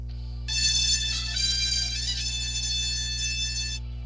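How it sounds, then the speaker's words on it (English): A bright electronic ringtone melody plays steadily for several seconds, loud and close, then cuts off abruptly; no voices. "check out this ringtone that I have"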